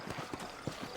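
Horse hooves clip-clop in the video game Red Dead Redemption, a quick uneven series of soft muffled thuds at moderate distance, playing on their own without talk.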